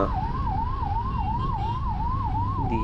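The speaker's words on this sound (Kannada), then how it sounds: "ಅಲ್ಲಿ ಆಂಬುಲೆನ್ಸ್ ಬರ್ತಾ ಇದೆ ಸ್ವಲ್ಪ ಸೈಡ್ ಬೇಡ" An ambulance siren wails loud and steady in Bengaluru traffic, its tone rising and falling in a quick repeating cycle over a low road rumble.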